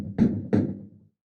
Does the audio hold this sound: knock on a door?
yes